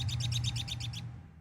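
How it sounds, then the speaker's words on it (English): Birds chirp outdoors at a spring festival in a quick, regular run of repeated bright tweets, close and clear for about a second before fading into quiet ambience. "take in the sounds of the birds chirping"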